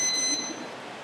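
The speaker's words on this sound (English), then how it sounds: "Double beep means read already." Beeps from an NFC card reader confirming a card read, a high tone sounding at the start of the clip and fading out, with quiet background hiss after.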